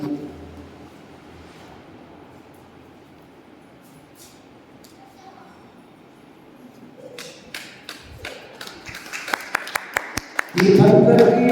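Scattered claps at a Jain religious gathering in Pitampura, Delhi, swell into loud, full audience applause over the last second, following a quiet stretch with a voice speaking.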